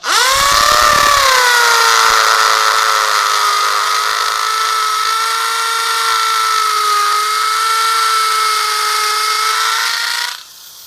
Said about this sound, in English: So I place my bit where I want to drill and then I switch it on.